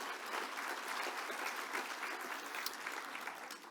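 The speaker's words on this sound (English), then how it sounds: "Give yourselves a big round of applause." An audience at a cultural diversity awards evening claps together in a steady, even wash of applause, moderately distant and sustained throughout with no voices standing out.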